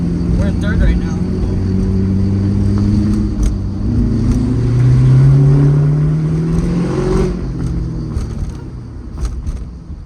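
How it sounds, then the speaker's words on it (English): A rebuilt Corvette engine revs hard as it accelerates up through the gears from third into fourth, a loud, rising drone that climbs, briefly dips at the shift, then pulls again, with voices talking over it. "Try to hit 4th gear over here. We're in 3rd right now."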